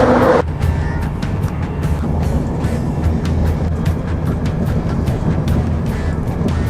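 Steady, loud low rumble of a moving train, continuous and droning, with faint rattling and clicks over the top and no voices.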